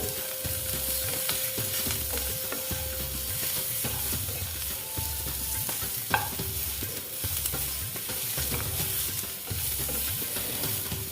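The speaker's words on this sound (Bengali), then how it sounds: "সুন্দর করে ভেজে নেব" Cauliflower and potato fry in a pan, a steady close sizzle broken by rhythmic scraping strokes of a spatula stirring the pieces, with no voices throughout.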